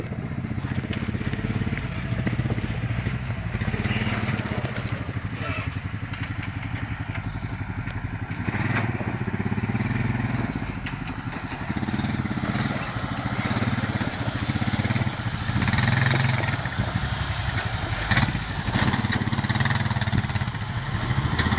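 Motorcycle engine revving and accelerating steadily while descending a rocky trail, a loud continuous mid-pitched drone with crackling surges throughout.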